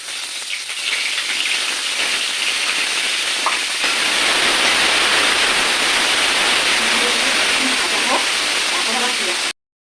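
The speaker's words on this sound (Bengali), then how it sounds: "ফুলকপিগুলো ভেজে নিই" Cauliflower florets frying in hot oil in a pan while khichuri is being cooked, giving a loud, steady sizzle and crackle that runs throughout with only brief pops and no pause.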